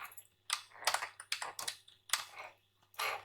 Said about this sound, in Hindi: एक बार मैं टाइप भी कर देती हूँ।